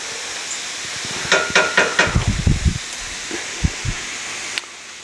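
Cauliflower rice frying in oil and butter, with quick bursts of crackle and hissing spatter, then a few sharper knocks and scrapes of a pan or utensil over a faint background sizzle.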